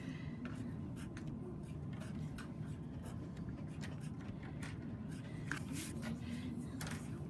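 Pencil or pen scratching steadily across paper while drawing dragon scales one at a time, a continuous close rubbing texture with small strokes and no talk.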